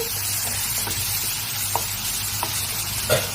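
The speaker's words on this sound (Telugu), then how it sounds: "వీటిని కొద్దిగా దగ్గరకు వచ్చేంత వరకు అయితే మనమైతే వీటిని ఫ్రై చేసుకోవాలి." Tomatoes fry in a pan with a steady, close sizzle, while a ladle stirs through them in a few brief scraping clicks.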